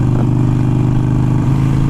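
A Harley-Davidson Iron 883 motorcycle fitted with a Vance & Hines Fuelpak FP3 runs loud and close, its engine holding a steady, throbbing drone with a slight shift in pitch midway.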